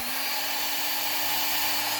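A CNC router spindle, driven through a Super PID speed controller, runs at 18,000 RPM with a steady high-pitched whine and airy rush, loud and continuous throughout.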